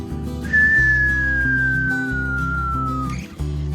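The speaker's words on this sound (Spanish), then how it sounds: "un silbo apacible, un sonido así como el viento tranquilo" A single long whistled tone glides slowly downward over a sustained low musical backing, smooth and soft like a calm breeze.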